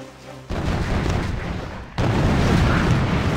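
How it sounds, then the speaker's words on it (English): Boom cannon firing in the Boom Beach mobile game, two heavy booming blasts that each open into a long, dense rumbling roar, loud and close with no voices. "Boom cannon is targeting them."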